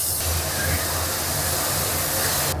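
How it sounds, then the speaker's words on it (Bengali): Tomato paste hits fried okra in a hot pan, giving a steady, loud sizzling hiss that holds evenly for a few seconds with no talking. "এবার টমেটো পেস্টটা দিয়ে দিলাম।"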